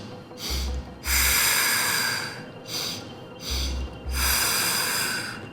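Deep, audible breaths drawn in and pushed out during a Pilates exercise, in four or five slow rhythmic cycles, each a close airy rush with short pauses between.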